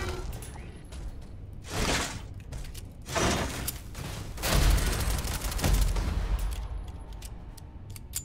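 A gun fires in the space game Starfield, several loud blasts arriving in separate bursts a second or so apart, each trailing into a rumble over quieter ambience.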